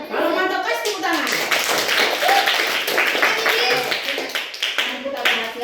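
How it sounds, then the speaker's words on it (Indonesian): A primary school class claps together in a dense, steady burst of hand clapping lasting several seconds, close and loud, with children's voices mixed in. "Kalau mantap kasih tepuk tangan."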